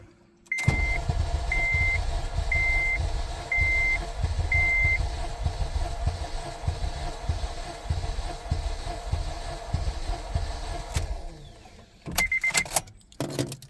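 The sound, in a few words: car engine cranking during compression test on cylinder 4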